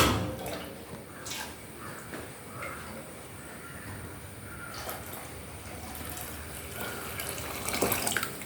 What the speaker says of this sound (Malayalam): നമുക്കിതിലേക്ക് വെള്ളം ഒഴിക്കാം